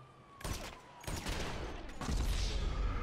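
Rifle gunfire in GTA V Online: three sharp bursts of shots, each cracking loudly then trailing into a noisy rumble, with the last burst heaviest and sustained.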